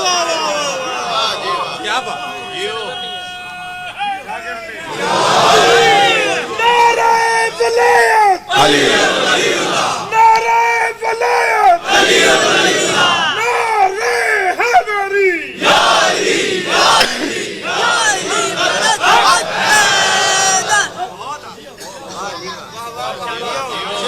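An audience at a religious lecture shouts back in loud unison, with repeated swells of collective chanting and crowd voices between short pauses, filling the hall with a dense, echoing roar.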